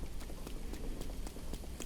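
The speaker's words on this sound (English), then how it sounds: "you can see a herd of wild horses, not bothered by the rain at all" Wild horses gallop through a rainy field in Breath of the Wild, their hooves a quick, steady clip-clop under soft, constant rain, with no talking.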